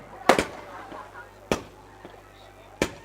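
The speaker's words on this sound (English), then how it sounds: "the fireworks are out" Fireworks go off at a cricket league final celebration: three sharp, separate bangs spaced over a few seconds, moderately distant, with quiet ambience between.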